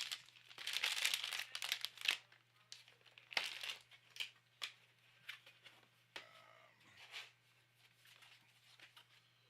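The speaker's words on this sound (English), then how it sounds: "Apologize for the crinkles." Plastic packaging from PC components, including Gigabyte, MSI and G Skill parts, crinkles and rustles close by in irregular bursts, loud then fading to scattered crackles, with a steady low hum underneath.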